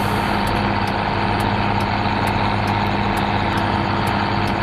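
A tractor engine idles and drones steadily in a farming video game, a loud, even low rumble with no talk over it.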